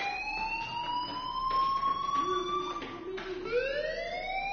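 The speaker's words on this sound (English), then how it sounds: "do you hear that fire alarm? That means you should be outside." A fire alarm wails continuously in a building, its rising and falling electronic tone loud and steady throughout, with no speech over it.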